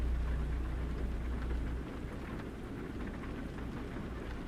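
Steady rain hisses under a low, rolling rumble of thunder in American Truck Simulator, the deep rumble easing off partway through while the rain continues evenly.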